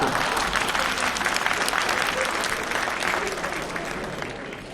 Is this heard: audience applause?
yes